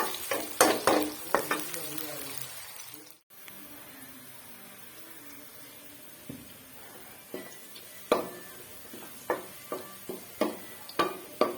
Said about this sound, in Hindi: प्याज को ब्राउन होने देते हैं।